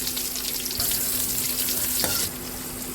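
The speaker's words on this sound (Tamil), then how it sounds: "இப்போ வெங்காயம் போட்டு வதக்க போகிறோம்" Onions sauté in hot oil for a Tamil-style chicken gravy, giving a steady, close sizzle with a faint clink of a utensil, and no talking.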